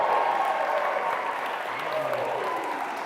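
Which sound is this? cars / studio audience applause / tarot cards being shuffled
studio audience applause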